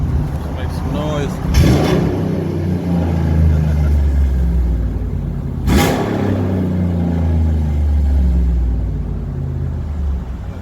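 A Ram 1500 pickup fitted with Doug Thorley catless headers idles with a deep, loud exhaust rumble. The engine revs sharply twice, with a voice heard over the running engine.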